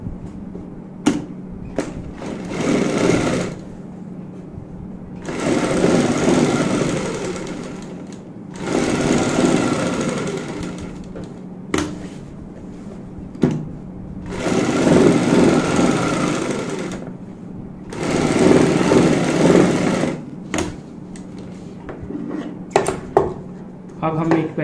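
A sewing machine runs in several separate bursts, stitching a kurti neckline together with buckram, each run lasting a few seconds with short pauses between, close and fairly loud.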